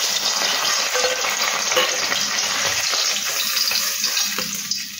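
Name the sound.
frying freshwater fish (amudi) in a pan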